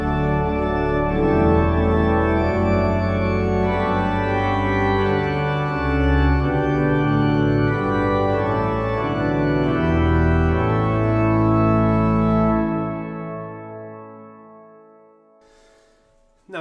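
A pipe organ plays a full hymn verse on the great manual with a quieter mixture stop, dense sustained chords over a solid bass line, steady and loud throughout before the final chord is released into the room's echo.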